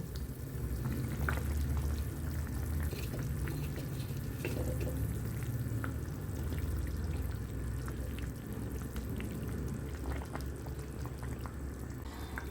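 A fish curry with fried small carp and plantain bubbles and simmers in a pan, a steady close watery boil with small pops and crackles running throughout, no talking.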